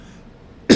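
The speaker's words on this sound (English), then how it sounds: "Pardon my cough, y'all." A single short, loud cough at the end of a brief quiet stretch, close to the microphone.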